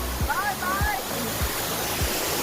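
Steady broadband rush of a forest waterfall, continuous and fairly close, with a few low thumps and brief bird-like chirps over it.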